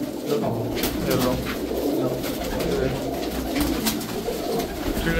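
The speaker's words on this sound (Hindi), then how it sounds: "कबूतर बढ़िया कबूतर हैं सारे" Pigeons at a pigeon dealer's shop coo continuously at close range over a dense, steady background of flock noise, with no talk in the clip.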